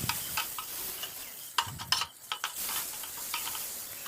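Pointed gourd slices with turmeric fry quietly in oil in a pan. A soft, even sizzle runs throughout, broken by scattered spatula taps and stirring clicks.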